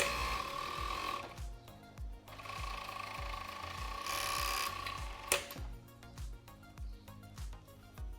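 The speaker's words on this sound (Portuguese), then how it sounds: "Alinhou, é só seguir com a costura." Sewing machine stitching aligned fabric pieces for children's underwear, a steady rapid mechanical clatter that runs in bursts with brief pauses, close and fairly loud, with no talk.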